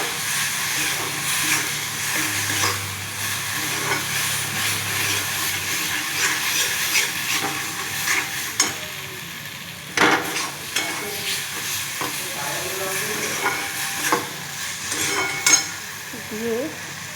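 Spice paste sautéing with onion and tomato in a pan gives a steady broadband sizzle with scraping stirs and occasional clacks of a utensil against the pan, continuous and close throughout.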